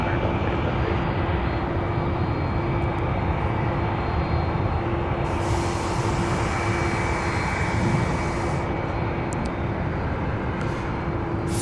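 A Finnair jet airliner passing at Seattle airport, a loud steady roar of jet engines with a constant whining tone sustained throughout, heard from the ground without a pause.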